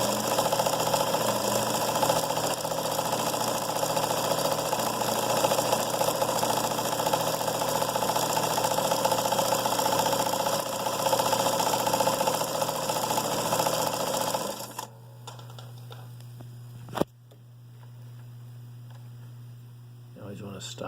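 A vintage late-1970s Sears Kenmore 158.17540 sewing machine runs a zigzag stitch, a dense, steady mechanical whirr with a rhythmic knocking pulse, then stops, leaving a low hum and a single click.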